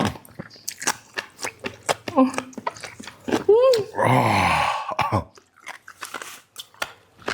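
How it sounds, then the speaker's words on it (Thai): Close, crunchy chewing of large dried bullet jellyfish. Repeated crisp bites and crunches keep up a steady rhythm, broken midway by a drawn-out murmured hum and a longer burst of rustly crunching. "พี่น้องฟิลเหมือนเคี้ยวกระดูกอ่อน อืม คือต้องเกี่ยวกระดูกอ่อนเลย มันกรอบแห้งเลย"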